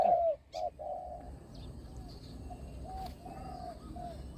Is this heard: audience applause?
no